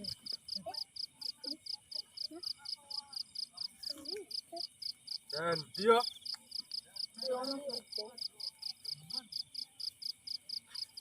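Steady, rapid cricket chirping pulses throughout a dark night in Sragen, Indonesia, with people talking intermittently over it at close range.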